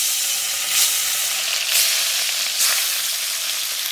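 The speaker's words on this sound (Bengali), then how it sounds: "গরম তেলে এবার এই যে মাছগুলো ভেজে নেব" Fish fry in hot mustard oil in a wok, a loud, continuous close-up sizzle with gentle surges every second or so as the pieces are moved.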